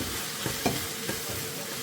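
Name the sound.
spices and tomato being stirred and fried in pan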